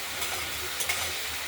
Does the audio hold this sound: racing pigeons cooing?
no